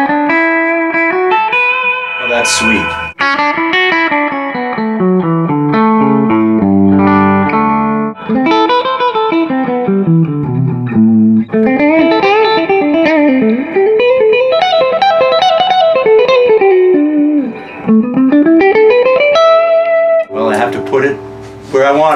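An electric guitar plays melodic lines and chords through a Morgan PR12, a 12-watt amp with a 12-inch speaker and built-in reverb. The tone is close, loud, lightly distorted and focused, with someone briefly speaking.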